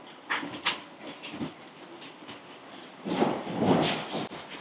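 An overnight train from Surabaya to Jakarta rumbles along, heard from inside the carriage, with rolling clatter and rattles that swell louder toward the end; no one speaks.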